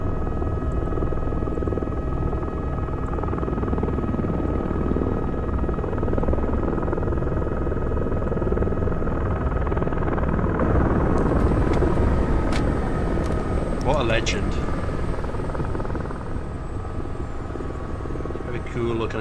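A helicopter in the military shooter Squad flies close in a loud, continuous rotor drone. Engine whine and buzzing sit on top of the drone, and someone speaks briefly near the end.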